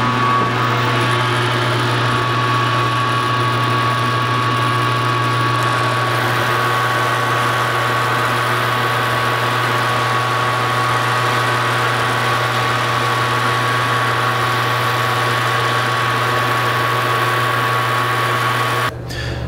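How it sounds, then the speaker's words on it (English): A lathe cuts Teflon with a left-handed boring bar on the outside of an insulator layer, giving a steady machine drone and hum that runs unbroken for about nineteen seconds, close and fairly loud, with no one talking. "I cut the outside with the left-handed boring bar"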